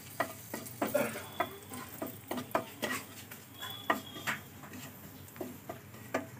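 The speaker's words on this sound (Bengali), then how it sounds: "পাঁচ ফোঁটনটা একটু ভালো করে ভাজা হোক। লঙ্কাটা দিয়ে দিলাম, তেজপাতাটা দিয়ে দিলাম।" Panch phoron spices fry in hot oil with chili and bay leaf, a busy sizzle broken by repeated scraping and stirring strokes against the pan, close and steady with no talk.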